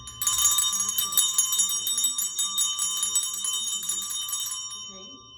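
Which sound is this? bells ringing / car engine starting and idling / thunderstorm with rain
bells ringing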